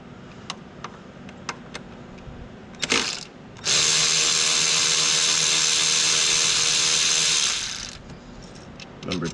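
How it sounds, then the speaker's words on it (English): Power driver or ratchet unbolting throttle body screws on a Ford Focus, one steady loud run of about four seconds with a few brief clicks and shorter bursts before and after. "So you just unbolt these 4 screws."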